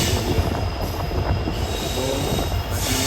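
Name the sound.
Kanyakumari passenger train pulling into platform 4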